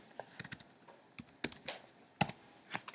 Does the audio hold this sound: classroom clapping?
no